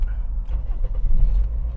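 A first-generation Toyota Vios engine starting by push-start button while rolling, giving a low rumbling crank that settles into a steady idle, close and continuous.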